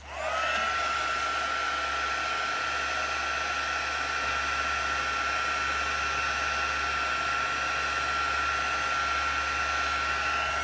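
An electric heat tool blows steadily to melt embossing powder for a craft resist, a constant whooshing hum with a faint whine, close and unbroken throughout, with no talking.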